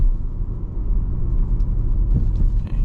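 A 2014 Audi RS5 coupe in dynamic mode drives along a road, with a steady, loud, low engine and tyre rumble heard from inside the cabin and no talk over it.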